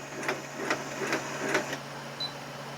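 Embroidery machine stitching orange thread on a belt hoop, a quiet regular ticking of about five evenly spaced needle strikes over a low steady hum.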